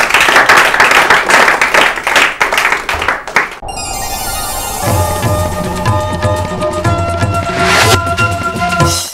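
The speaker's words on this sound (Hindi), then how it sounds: "तो इस राउंड के लिए भी ताली बजा ही दीजिए इन लोगों के लिए" Studio audience clapping for contestants on an Urdu-language quiz show, a loud burst of hand claps that cuts off after a few seconds and gives way to a bright musical sting with steady tones.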